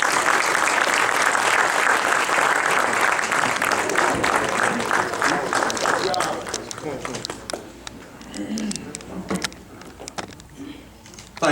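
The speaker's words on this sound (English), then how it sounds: "So without any further ado, please help me in welcoming Dr. Selden Harris to the podium. With a round of applause." An audience gives a loud, sustained round of applause for a speaker welcoming him to the podium at a semi-annual dinner program held at the Islamic House of Wisdom. The dense clapping holds steady, then thins and fades toward the end.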